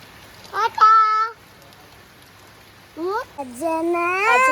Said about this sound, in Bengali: বৃষ্টি হচ্ছে কি হচ্ছে বল